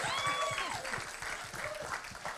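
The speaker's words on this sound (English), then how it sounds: "Yes, round of applause." Audience applause at an arts and mental health event in London, a steady wash of clapping with voices and cheers mixed through it.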